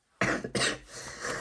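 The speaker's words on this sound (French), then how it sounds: "Et voilà, je tousse, pardon." Two close, sharp coughs from one person, the first short and abrupt and the second louder, trailing into a throaty breathy tail.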